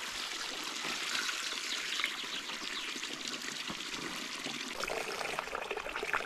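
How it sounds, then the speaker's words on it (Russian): Water trickling and pouring steadily out through a hole made in a flooded dugout shelter, a continuous close splashing stream with small gurgles, no voices. "здесь вот я сделаю дырку, чтобы вода выбежала оттуда"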